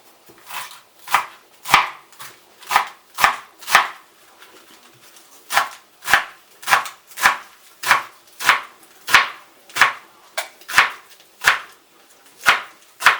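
A knife chops sorrel on a board for green borscht soup, producing about twenty crisp, evenly spaced thuds in a steady rhythm. The chopping is close and alone, with no talking.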